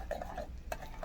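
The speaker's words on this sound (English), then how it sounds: "Thoroughly mix it." Batter is stirred by hand in a bowl as pumpkin mixture is worked into cheesecake batter, giving soft repeated scraping swishes at a steady close rhythm with no talking.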